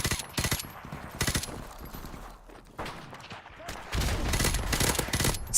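Explosive gunfire and blasts from a Call of Duty 4 Remastered match, including a noob tube grenade launcher, come in loud bursts with rapid shots and a big boom near the end, with brief talk over the game.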